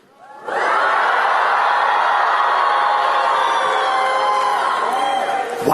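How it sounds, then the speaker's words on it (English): A live tour crowd roars and whoops loudly for Charlie: the cheer swells within half a second and holds at full strength before fading near the end. "everyone give me your loudest cheer for Charlie"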